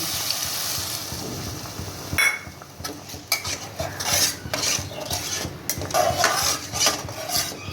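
Water from rinsing the spice bowl poured into a pan of fried spice masala for a stuffed potol dorma with fish roe, bringing a soft watery hiss and bubbling under repeated clinks and scrapes of a utensil stirring.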